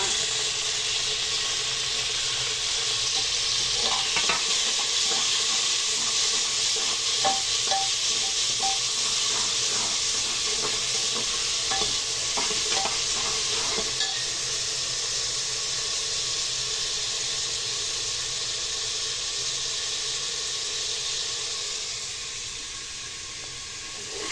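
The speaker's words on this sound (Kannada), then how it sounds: "ಟೊಮಾಟೊ ಸ್ವಲ್ಪ ಚೆನ್ನಾಗಿ ಫ್ರೈ ಆಗಲಿ" Tomatoes fry in a pan with a long, even sizzling hiss and light stirring clicks in the middle stretch; the hiss eases slightly toward the end, with no talk.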